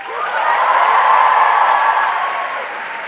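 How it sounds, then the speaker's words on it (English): Loud, dense applause from an audience honoring Uttar Pradesh board topper Prachi Nigam, a steady wash of clapping that swells and holds for about three seconds with a faint crowd murmur underneath. "can I have the loudest applause?"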